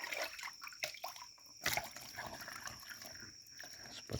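Water pours and splashes into a herbicide sprayer tank in an irregular, trickling stream with a few sharper splashes, close by and heard alone.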